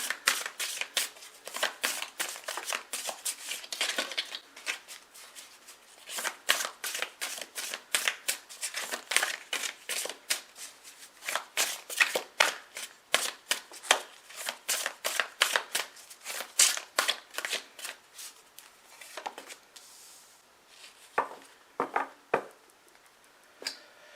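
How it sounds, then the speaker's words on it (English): Rapid riffle shuffling of playing cards, repeated bursts of crisp fluttering slaps close by, with brief pauses between shuffles and no talking. "get some cards shuffle up"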